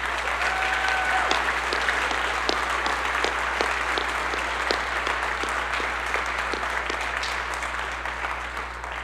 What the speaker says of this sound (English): So can we all give one more round of applause to all of the music educators?